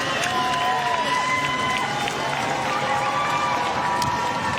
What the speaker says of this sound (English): listen to the noise and the adulation of the crowd as the winner prepares to come home.